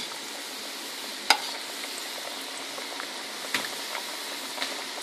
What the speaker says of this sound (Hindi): इसे हमने 5 मिनट फ्राई किया है।